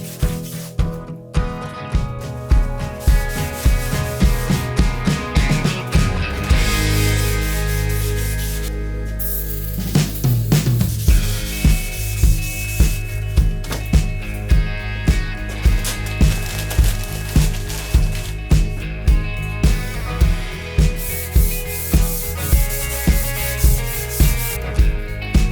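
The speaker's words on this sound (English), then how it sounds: "The aluminum foil won't scratch the steel, but it'll take off a lot of the rust." Aluminum foil scrubs rust off the steel blade of a handsaw in quick, rhythmic back-and-forth strokes. The rasping is close and steady, with a brief pause partway through, and no talking.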